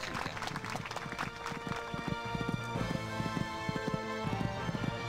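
Rapid hoofbeats of a horse galloping around a riding course in a horse riding video game, a steady clip-clop rhythm with music playing underneath throughout.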